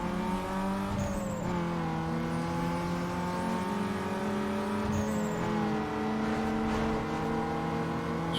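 Car engine in the racing game Need for Speed Underground 2, a steady high drone with rising and falling revs throughout, loud and continuous with no talk.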